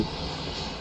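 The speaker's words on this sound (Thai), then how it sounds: "เครื่องบินเรา" In the war shooter game Ravenfield, an airplane flies overhead with a constant, dense engine roar and rushing noise, steady and unbroken, with no talk.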